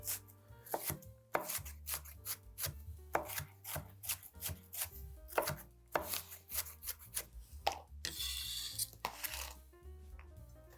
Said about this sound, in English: The Big Mac is topped with chopped white onion, so I'm going to chop it up